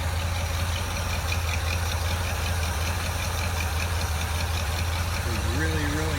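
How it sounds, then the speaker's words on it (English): An engine idles steadily with a deep, low rumble and an even rhythmic pulse, close and continuous, with no voices over it. "it offers strong performance and a smooth, deep exhaust tone"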